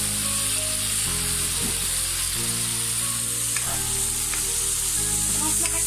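Spices sautéing in hot oil in a pan for a rui fish curry with data and potatoes, a steady close sizzle with soft scraping stirs, no talking.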